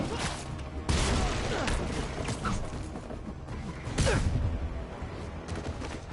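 Missiles and rocket launcher blasts boom and crash in a Spider-Man video game, loud explosive hits near the start and midway amid continuous mechanical rumble and debris clatter.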